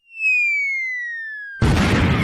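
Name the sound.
firecracker exploding indoors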